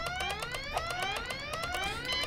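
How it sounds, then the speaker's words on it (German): An alarm in the point-and-click game Goodbye Deponia rings out as a fast, repeating electronic warble, steady and moderately loud on its own. "So, jetzt schaltet er nochmal den Alarm ab."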